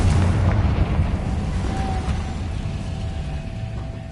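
Bombarda and Confringo spells go off in the game Hogwarts Legacy, producing a loud, continuous rumbling roar of explosions that stays dense and heavy throughout and eases off slightly toward the end.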